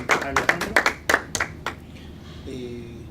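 A small audience claps after a lecture, a short burst of scattered handclaps that fades within about two seconds and gives way to quiet room tone.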